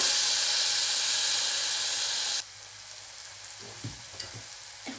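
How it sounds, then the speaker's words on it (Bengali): Spice paste for a dried fish curry fries loudly in a pan with a strong hissing sizzle that suddenly drops to a quieter crackle, followed by a few stirring knocks. "আমি মশলাটারে কষাইয়া শুটকি দিয়ে শুটকিটারে কষাই"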